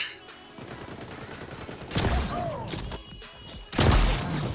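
Gunfire in the first-person shooter XDefiant comes in two heavy bursts, loud, close and sustained, with thumping impacts over a busy game background.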